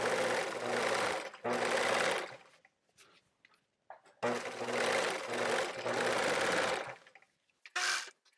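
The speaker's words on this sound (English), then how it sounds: "lower the needle, lift the foot, turn around, and then I'm just gonna sew all the way down towards the hem." A sewing machine runs in steady bursts of rapid stitching along a wrap skirt seam toward the hem, stopping and starting several times with short pauses between runs.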